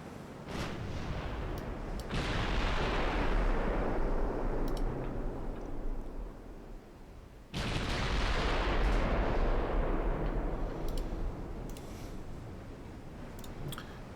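Dreadnought naval guns firing in a video game, two heavy booming salvos several seconds apart, each a sharp blast trailing into a long rumbling decay.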